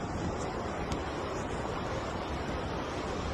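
Ocean waves wash steadily on the shore with constant surf noise and some wind buffeting the microphone, heard close and continuous without talk.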